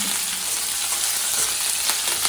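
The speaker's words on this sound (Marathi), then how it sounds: "जे बेसिक आपण फोडणी देतो ना तशाच प्रकारे तिला फोडणी द्यायची आहे लसूण टाकायचं आहे" Garlic and chillies sizzle loudly in hot oil for a tempering, a dense continuous crackle heard up close with faint pops and no talking.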